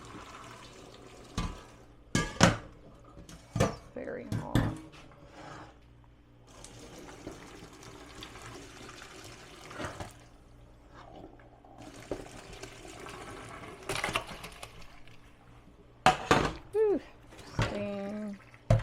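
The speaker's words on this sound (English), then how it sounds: "I'm going to pour all this water off of here. Rinse it with cold water." Cooking water is poured off boiled poke sallet greens and cold tap water runs over them to rinse, heard as intermittent splashing and running water bursts in a kitchen, with a brief remark spoken over it.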